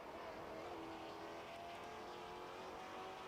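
GT4 race car engines in Assetto Corsa Competizione drone at high revs, a steady buzzing whine with faint pitch shifts, fairly quiet and continuous.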